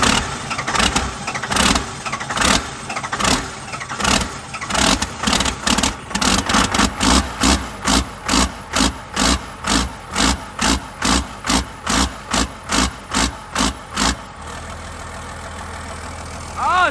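A 12-valve Cummins diesel truck engine making 700 horsepower with 45 degrees of advanced timing fires up and revs hard in a long run of loud, evenly spaced bursts, then drops to a low idle.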